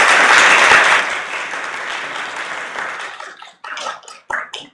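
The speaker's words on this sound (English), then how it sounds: "We didn't give you guys a chance to get applause." At a township school board meeting, the room applauds the student presenters as they stand, loud full clapping at first that gradually thins out and breaks into a few scattered, separate claps.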